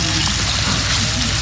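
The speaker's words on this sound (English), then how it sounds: "Dem is adding the rice to the orzo and the oil mixture." Rice going into a pan of orzo frying in butter and oil for Turkish pilaf, a steady close crackling sizzle that runs unbroken throughout.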